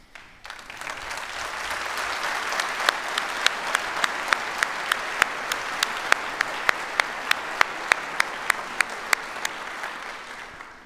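An audience at a university address applauds elected officials, a full round of clapping that builds quickly, holds steady with sharp individual claps standing out, and fades at the end.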